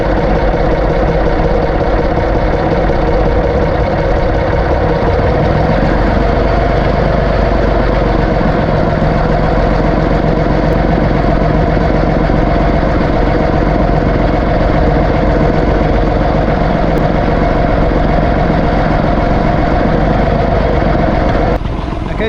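A tractor engine drones loud and steady while it drills fodder beet in a field in April, a constant unbroken rumble that dominates from start to finish, with no talking.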